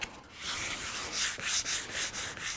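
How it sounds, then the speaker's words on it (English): Hand sanding of a Firebird bumper with 600 grit sandpaper, heard as steady close back-and-forth rasping strokes in a quick, even rhythm, with no voices. "So I'm gonna sand probably this whole thing"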